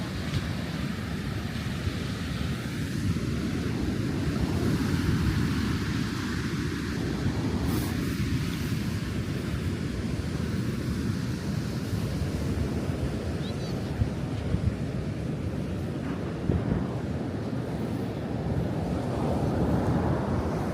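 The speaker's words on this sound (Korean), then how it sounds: "파도 봐 파도" Ocean waves breaking on a beach in the wind, a constant roar of surf with wind buffeting the microphone all the way through and faint voices in the background.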